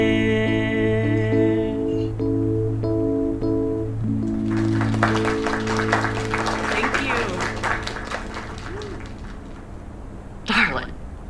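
Steady applause from an audience builds in the middle and carries on over sustained music, with a brief sharp burst near the end.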